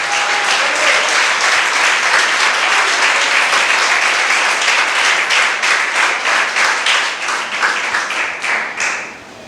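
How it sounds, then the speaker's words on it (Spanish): A church congregation breaks into loud, dense applause and clapping during a Spanish-language service, holding steady for several seconds before tapering off at the end. "Ese aplauso es para el Señor Jesús."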